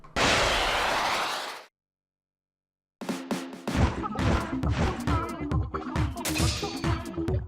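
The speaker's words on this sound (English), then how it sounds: "you can also use the Stingray special to destroy the flyfish" A Stingray special fires in Splatoon 2 to destroy a Flyfish: a loud burst of spray first, then a pause, then a rapid series of sharp crackling hits and bursts, with no talking.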